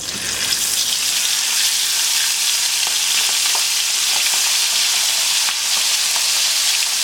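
Steamed chicken pieces frying in hot oil over a high flame, a loud, steady crackling sizzle with scattered sharp pops running continuously, with no voices.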